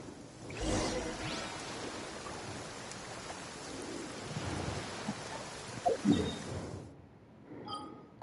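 Rain pours in the video game Genshin Impact with rumbles of thunder rolling through, a steady wash of rainfall broken by louder deep booms before the storm abruptly cuts to near silence.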